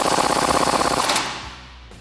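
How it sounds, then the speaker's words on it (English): A wrench and 21 mm socket ratchet rapidly while tightening a top control arm bolt on a Jeep Wrangler JK, making a fast, even clicking burst for about a second before stopping abruptly, close and loud with no talk. "Now we can tighten that top control arm bolt back up with the 21 millimeter wrench and 21 millimeter"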